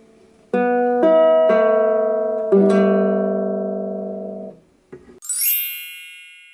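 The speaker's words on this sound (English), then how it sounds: "The correct answer is ukulele strumming." A ukulele is strummed up close, with several bright chords struck one after another and the last one left ringing to fade. A short chime follows.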